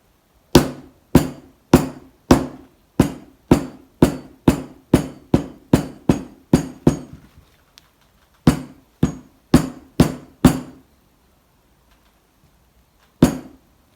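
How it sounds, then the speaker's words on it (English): A rawhide hammer taps a Bolens hydraulic lift cylinder end into place, about fifteen sharp, evenly spaced blows in a steady run, then a pause, five more taps, and one final strike, close and alone with no talking. "I'm going to be gently hitting it down with this hide hammer until the thread is in the centre of this hole."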